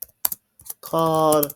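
A few brisk taps on a computer keyboard, close and clear, followed by a single spoken word and a sustained voiced sound.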